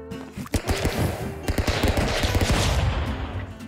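Rapid bursts of gunfire from the stick-figure brawler game Stick Fight, dense and loud throughout, with clustered shots overlapping one another.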